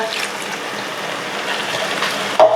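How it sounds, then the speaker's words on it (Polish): The last of some water being poured into a pot while cooking soy cutlets, a steady close splashing gush that ends with a brief clunk. "druga woda wyparowała, więc tą końcóweczkę dolewamy"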